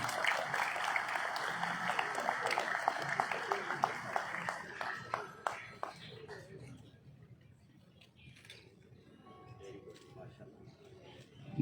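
Applause from an audience at a high school prize-giving function, a dense wash of clapping under a speaker's voice that thins out and fades to scattered claps, with talk continuing.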